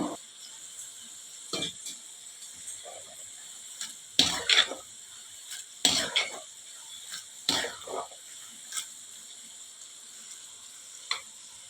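Jackfruit chips crackle and sizzle as they fry in hot oil, with several sharp bursts of spitting as pieces drop in, over a steady close hiss.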